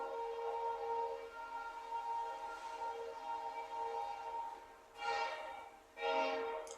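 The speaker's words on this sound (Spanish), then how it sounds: "Oigan el tren, por aquí pasa seguido un tren." A freight train passes at a distance with steady rumbling, and two loud horn blasts sound near the end.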